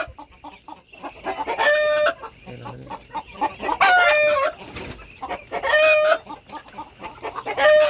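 Native chickens cluck steadily while a rooster crows loudly three times in repeated bursts, close by and clear against the flock.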